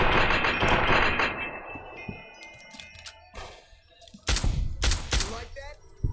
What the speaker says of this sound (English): Shooting at someone. I should probably shoot at him